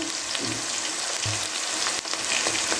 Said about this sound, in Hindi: मसाले को अच्छे तरीके से हम भूनेंगे।